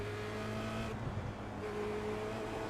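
Formula Renault 2.0 race car engine on an out lap at Spa in iRacing, a steady, continuous engine drone with sustained tonal harmonics that shift pitch briefly as revs change, loud and close with no talk.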